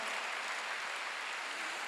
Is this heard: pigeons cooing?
no